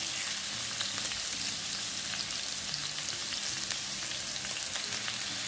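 Chicken fajita pieces fry in a few tablespoons of avocado or vegetable oil in a pan, a constant fine sizzle with scattered tiny pops, fairly soft and steady, with no voices.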